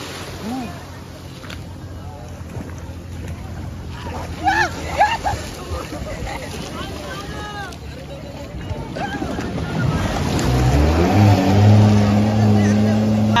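Cold sea waves rolling in at Alibag beach, a broad wash of surf that swells louder toward the end, with excited voices and laughter from people standing in the water.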